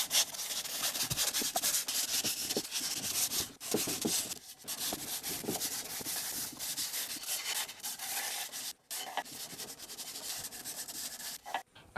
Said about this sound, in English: I'm going to sand them by hand. I'm using a 120 grit sandpaper.